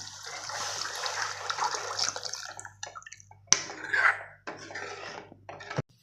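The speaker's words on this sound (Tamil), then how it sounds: "தேவையான அளவுக்கு தண்ணி ஊற்றிக்கலாம்." Water is poured into a pan of brinjal gravy in a home kitchen, making a close, splashing, gushing stream that stops and starts again in several pours.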